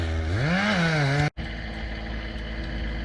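A chainsaw cutting the wedge piece out of a tree on a property, its engine revving with a rising and falling pitch before cutting off abruptly, then a steady outdoor engine drone continues.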